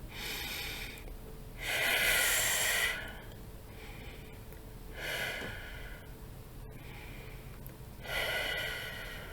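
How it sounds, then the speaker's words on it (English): Three deep breaths are taken as part of a short meditation, each a slow, airy inhale or exhale spaced evenly a few seconds apart, close and fairly soft. "put your hands up and take 3 deep breaths in."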